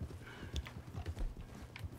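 Horse hooves clip-clop in a steady trotting rhythm while riding in the Red Dead Online video game, moderately loud with soft ambient outdoor noise around them.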